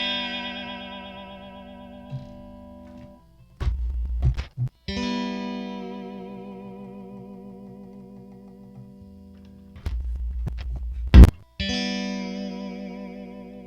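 Electric guitar through a subtle vibrato effect with the reverb switched off rings out in sustained, gently wavering chords. A few sharp, percussive string attacks and short gaps break the sound.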